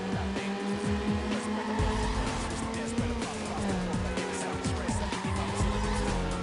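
Racing car in the video game Need for Speed Underground, a continuous engine roar with rising and falling revs and repeated tire squeals, loud and steady throughout.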